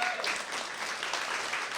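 Brief, steady clapping from a crowd at an International Women's Day event honours a woman, a short burst of applause with no voices over it.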